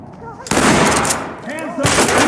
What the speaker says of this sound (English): Blow it with the shotgun.